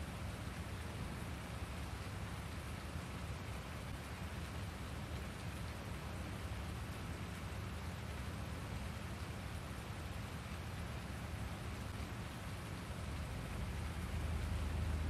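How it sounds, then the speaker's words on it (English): Steady rain falls in the farming video game Farming Simulator 19, a dense, even hiss of raindrops on surfaces that continues unbroken throughout, with no voices. "It's a shame it started raining,"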